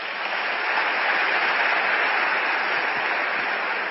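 Steady, dense applause from a seminar audience, continuous clapping at an even level from start to finish with no voices over it.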